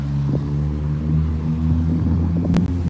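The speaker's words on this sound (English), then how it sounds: "It's a loud blue car." A loud blue car passes on the street, a heavy low rumble of engine and tires filling the short stretch, fairly close, with no talking.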